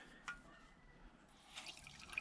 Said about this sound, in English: put a bit of water in now